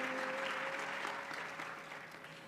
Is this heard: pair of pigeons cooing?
no